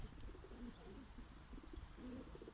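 Kept pigeons coo close by, soft low rolling calls repeating in several bursts, with a faint high chirp or two in the background.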